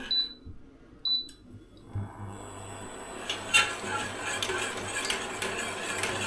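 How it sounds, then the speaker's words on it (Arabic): Custard ingredients stirred in a pot with a spoon, giving a steady run of scraping and clinking against the pot sides that starts after two short high electronic beeps near the beginning. "بنضل بنحرك فيهم حتى المكونات عنا ما يلزقوا بالتنورة"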